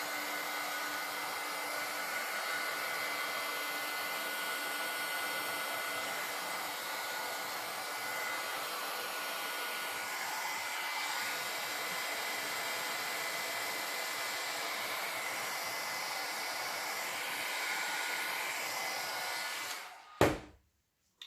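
A hair dryer blows steadily and close for about twenty seconds over fresh craft work, a constant loud whoosh that cuts off abruptly near the end with a brief clunk.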